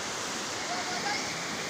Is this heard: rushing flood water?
yes